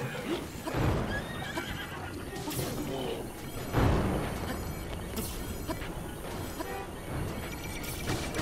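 Loud whinnies and galloping hoofbeats from a horse in Zelda: Breath of the Wild, with swooshes and crashes of game action mixed in, bursts of neighing recurring every couple of seconds.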